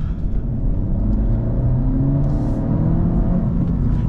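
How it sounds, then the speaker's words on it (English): A 2024 Honda Civic Si with a 1.5-liter engine rev-matches on a downshift, giving a steady, loud engine rumble and whir with a slight rise in revs, heard from inside the car without talk. "Downshift when you have no reason to, just to hear it rev match."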